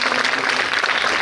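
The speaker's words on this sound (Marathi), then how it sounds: "सर्व प्रेक्षकांना विनंती आहे की कृपया प्रचंड टाळ्या होऊन जाऊ द्या एकदा" An audience at a school Ganesh Vandana performance breaks into dense, steady applause, many hands clapping together in a full, even burst that holds level for the whole brief moment.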